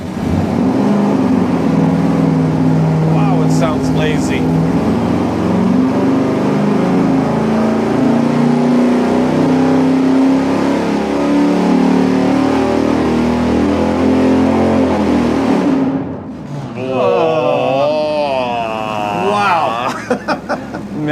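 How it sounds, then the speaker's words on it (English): A 440 V8 revs hard through a dyno pull with the camshaft advanced ten degrees, a loud sustained drone climbing in pitch for about fifteen seconds before cutting off, then a brief lower rev-down as someone speaks. "Yeah, that is such a lazy engine."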